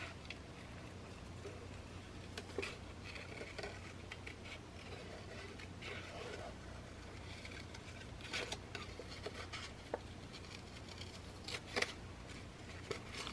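Pencil-cutting scissors snip through paper while an envelope insert and tag are being made. Quiet, irregular crisp cuts and rustles sit over a soft, steady background hiss.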